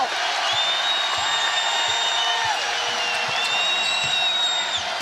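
A basketball arena crowd cheers and roars continuously during a Caitlin Clark game, with a dense, sustained wash of noise and faint squeaky tonal whistles riding over it.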